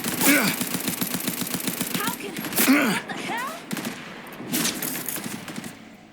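Turret gunfire in a video game, heard as rapid bursts of automatic shots and volleys filling most of the stretch, loud and close, with excited voices calling out over the fighting.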